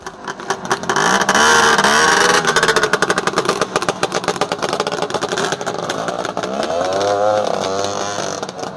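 A voice imitates a riding 1946 Jawa 250 cc two-stroke, twin-exhaust motorcycle, producing a loud, continuous buzzing, sputtering engine note that rises and falls as if accelerating on the move.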